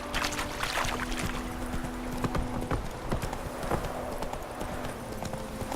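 Hooves of Roach, the horse in the video game The Witcher 3, clip-clopping in a steady, close, fairly loud walking rhythm over a soft ambient background.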